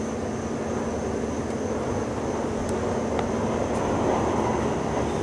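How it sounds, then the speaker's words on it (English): Aircraft flying overhead on a September evening on Long Island, New York, a steady broad roar that holds at an even level throughout with a slight swell near the end, no voices. "What do you think of all these airplanes?"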